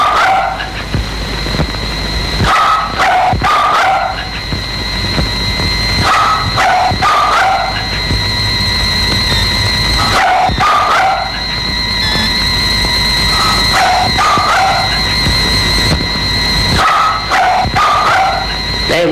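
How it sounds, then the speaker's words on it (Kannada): Dogs bark at night in short, sharp clusters of yips and woofs. The bursts come every few seconds over a constant low background drone, fairly close and loud. "ಈ ಹಾಳಾದ ನಾಯಿಗಳು ಕಾಟ ಮಲಗಕ್ಕೂ ಬಿಡೋಲ್ಲ"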